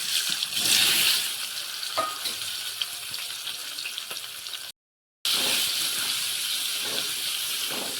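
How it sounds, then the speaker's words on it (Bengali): Boiled potatoes frying in hot oil with a little turmeric, a loud continuous close sizzle and hiss, broken briefly by a short silent gap partway through. "এবারে সিদ্ধ করা আলুগুলো দিয়ে দিচ্ছি, ভালো করে ভেজে নেব।"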